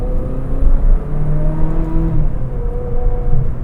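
A Ferrari 360 Modena engine pulls hard high in the rev range, a dense, steady rumbling drone heard from inside the car with no talking.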